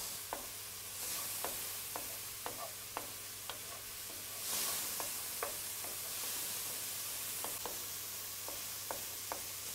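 Food sautéing in a pan for a paleo pork dish, with a soft continuous sizzle under repeated light clicks and scrapes of a utensil stirring, fairly quiet and close.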